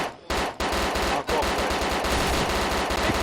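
Dense, sustained automatic gunfire in the game DayZ, rapid bursts nearly continuous with brief gaps, loud and close.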